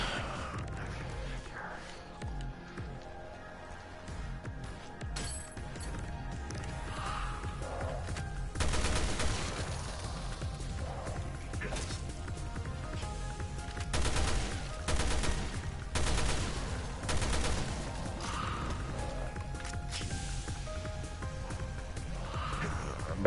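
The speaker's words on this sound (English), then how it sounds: "Oh, assault rifle," Assault rifle fire in the Resident Evil Revelations 2 Raid Mode video game comes in repeated rapid bursts over a low game background, fairly quiet overall with several denser volleys.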